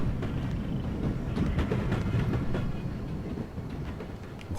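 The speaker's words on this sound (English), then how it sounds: "Come on, train." A train rumbles past in the wrestling video game Wrestling Empire, a steady, dense low roar with faint rhythmic clatter running throughout, loud and close with no talking.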